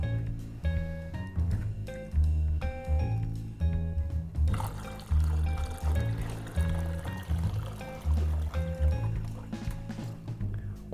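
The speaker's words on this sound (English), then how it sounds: "take 4 gallons of hot water, it's gonna be 2 gallons per hopper," Hot water poured into a cleaning machine's hopper, a continuous gurgling, splashing flow close by with hollow thumping resonance, steady for the whole stretch with no talk.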